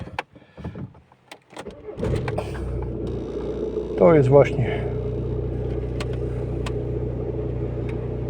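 A car engine cranks after a few clicks and catches, then settles into a steady low idle rumble with a brief whine-like burst midway; someone speaks briefly near the start.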